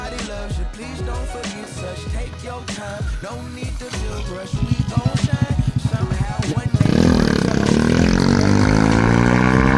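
Lifan KP Mini 223 motorcycle with a 165FMM engine out on a ride, with busy music-like sound early on, then a rapid pulsing engine chatter and a loud sustained rising drone toward the end.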